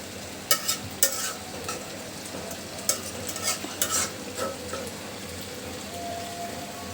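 Beef tripe bhuri bhaji frying in a pan, a continuous sizzle with repeated stirring scrapes and clinks of a spoon, close and busy, rising in bursts then easing into a steady fry.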